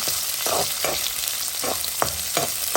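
Chopped onions frying in a pan, a loud steady sizzle with rhythmic scraping strokes of stirring about every half second, close up and with no voices.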